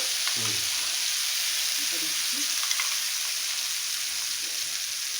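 Coriander leaf paste frying with nigella seeds in mustard oil, a steady hiss of sizzling with a few faint stirring knocks and no talk.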